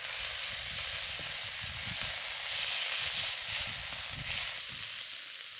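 Continuous close sizzling as black bean sauce hits a hot pan with ginger and onion for salmon in Chinese black bean sauce, steady frying hiss with light stirring scrapes, easing slightly at the end.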